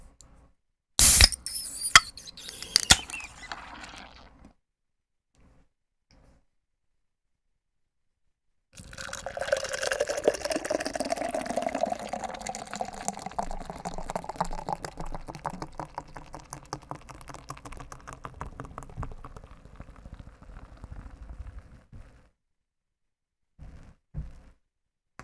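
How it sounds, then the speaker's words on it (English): Guinness beer poured into a glass, a long steady liquid rush and fizz that slowly tapers off, preceded by a few sharp clicks and followed by faint taps, with no voices. "This is the sound of a Guinness."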